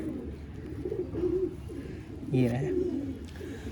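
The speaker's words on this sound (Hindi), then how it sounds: "बहुत शानदार कबूतर है ये।" Pigeon cooing close by, a few low throaty coos rising over a background of other birds, with someone speaking briefly in Hindi over it.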